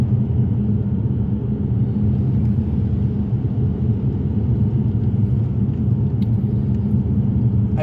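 A car drives steadily and turns onto a residential road, its broad low engine and road rumble constant and loud throughout with no talking.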